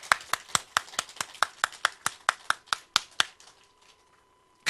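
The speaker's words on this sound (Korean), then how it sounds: "이럴 땐 박수 쳐도 전혀 손색이 없는데" A small group claps in a steady run of about a dozen crisp, evenly spaced claps during a church sermon, close and moderately loud, then stops, leaving a faint hum.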